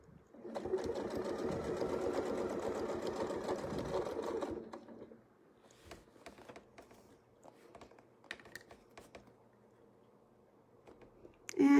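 A sewing machine stitches a straight line across a quilt in a fast, continuous whir lasting a few seconds, then stops, leaving scattered light taps and clicks before a louder knock at the end.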